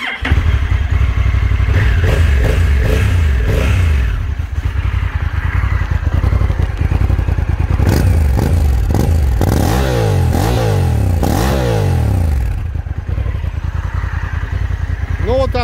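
A 2023 Honda NT1100 DCT motorcycle engine runs loud and close, revving repeatedly through rising and falling sweeps over a rough idle, with occasional clatter.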